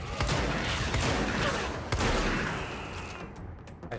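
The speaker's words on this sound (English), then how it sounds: "there is a gun emplacement" A gun emplacement in the video game Control fires continuously, giving dense, rapid gunfire that fills the whole stretch with a few sharper bursts and then thins out at the end.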